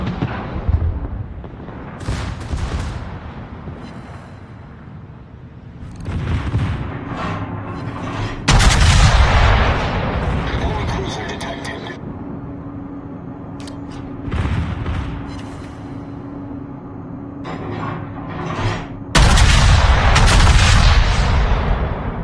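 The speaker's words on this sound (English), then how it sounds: "Concentrate fire on the enemy warship." Warship guns boom at enemy ships in a naval video game, heavy artillery blasts arriving in several loud bursts separated by quieter rumbling stretches, with no talking over them.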